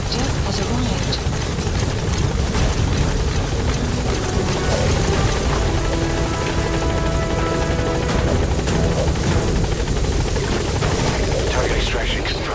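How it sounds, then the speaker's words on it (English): Support helicopter from Metal Gear Solid 5 arriving at the landing zone, a steady loud rotor roar filling the whole clip with game sounds and voices mixed underneath. "Support helicopter has arrived."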